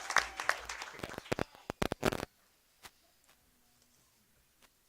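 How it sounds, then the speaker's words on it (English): Applause for students inducted into the National Technical Honor Society at a school board meeting, dense clapping for about two seconds that breaks off abruptly, followed by scattered faint taps and near silence. "So let's give these students who are now known to be in the National Technical Honor Society"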